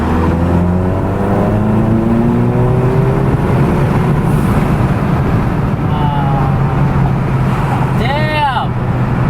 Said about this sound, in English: So we're gonna do a pull here, get as slow as I can in 3rd gear.